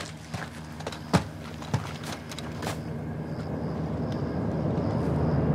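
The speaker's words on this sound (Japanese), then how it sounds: "ヘリが来る。" A helicopter approaches in Call of Duty: Modern Warfare II, a low rotor rumble that swells steadily toward the end after a few sharp thumps and knocks early on.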